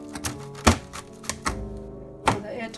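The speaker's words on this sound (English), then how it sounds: "So just poke it with a scissors or something" Scissor tips jab holes in cling film stretched over a microwave rice dish, a few sharp, irregular taps and crinkly pokes close to the microphone, with no talking.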